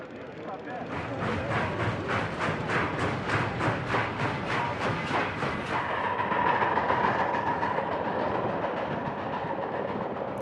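A train rolls along the rails through the desert, its wheels beating a steady clickety-clack rhythm over the joints for the first few seconds before settling into a continuous rumble, under a voice.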